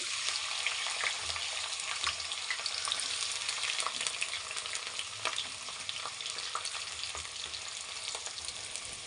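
Bay leaves and sliced onions crackle and sizzle in hot oil, a dense steady frying hiss with occasional sharper pops and faint stirring, close and continuous throughout with no voices.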